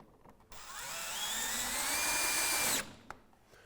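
A power drill drives a screw into the base bracket of a Velux top-hung roof window, one close whirring run of about two seconds that rises in pitch and then stops abruptly.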